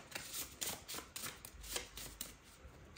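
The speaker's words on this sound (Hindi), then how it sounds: "We will shuffle again." A deck of tarot cards being shuffled, a quiet close series of quick papery riffles and flutters in a rapid, uneven rhythm.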